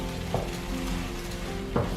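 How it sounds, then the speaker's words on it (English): Vegetables sizzle steadily in a hot frying pan, a constant crackling hiss with a couple of soft stirring scrapes, no voices. "As you can hear, it's really sizzling a bit now,"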